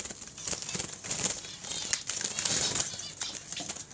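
Java sparrows being caught inside a cage, giving close, rapid bursts of flapping wings mixed with light rustling and scratching, continuous across the moment.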